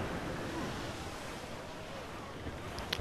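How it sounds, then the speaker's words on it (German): Stiff sea breeze and rolling waves on open water in Assassin's Creed Black Flag, a steady broadband wash of wind and surf throughout, with a few faint higher splashes near the end. "Die steife Brise."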